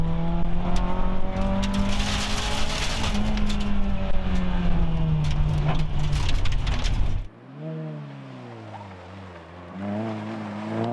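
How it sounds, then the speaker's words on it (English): Honda Civic rally car at full throttle on a Targa NZ tarmac road stage, loud harmonic engine drone with rising and falling revs and gear changes, cutting abruptly to a quieter, lower engine sound as the car fades and revs again. "O'Neill's Honda Civic is quicker, but Burke stays with him through the tighter winding road to Ratapico and the finish."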